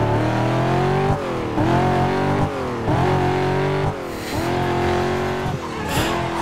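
Corvette Z06 engine in the racing video game NFS Carbon, revving hard with repeated rising gear sweeps and brief dips at each shift, loud and continuous with no talk.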